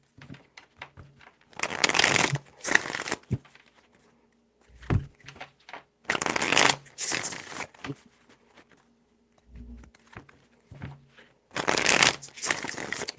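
A deck of tarot cards is shuffled in three loud, separate bursts, each a dense riffling rush lasting about a second, with soft handling clicks and taps in between. It is close and alone, with no talk.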